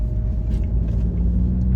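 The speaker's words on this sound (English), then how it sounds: "we're stuck in traffic, which means we might be late" Road traffic while stuck in a jam: a dense, steady low rumble of idling and slowly moving cars fills the short stretch, close and continuous, with no voices.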